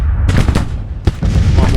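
Musket volleys and artillery fire in Grand Tactician: The Civil War, with several sharp close blasts in quick succession and a heavy boom near the middle over a constant battlefield rumble.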